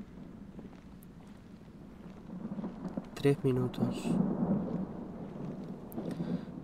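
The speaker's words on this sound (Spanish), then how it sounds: "Y se viene la tormenta." Low rumbling thunder rolls under steady rain and wind in a video game thunderstorm, with a brief spoken Spanish phrase partway through.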